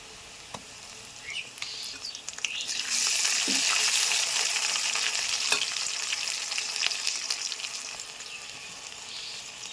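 Ginger and garlic paste hits a pan of already-fried onions for a home-style desi chicken curry, breaking into a loud, steady sizzle after a quieter start and holding it throughout with no voices.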